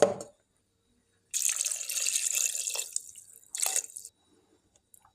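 Water is poured over chicken pieces rubbed with paste in a cooking pot, with two close splashing pours, a longer one and then a short one, separated by silence and with no talking.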